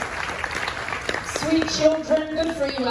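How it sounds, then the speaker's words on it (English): Audience applause in a cruise ship comedy show, scattered clapping across the room that carries on under a voice speaking over it. "Clap for sweet Alex, everybody."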